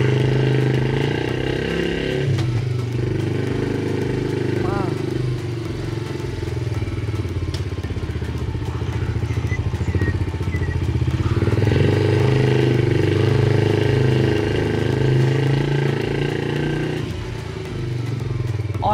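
A small Alif GTS motorcycle with a four-gear engine rides along a road, its steady near engine drone and rattle running throughout with brief shifts in pitch, while a voice talks intermittently over it.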